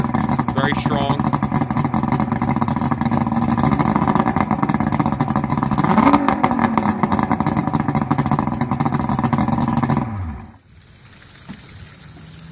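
A 2003 Yamaha Saltwater Series two-stroke V6 200 outboard on a Sailfish 234 walkaround runs steadily and loudly with a droning, slightly rising tone, with water splashing around it, then cuts off abruptly near the end.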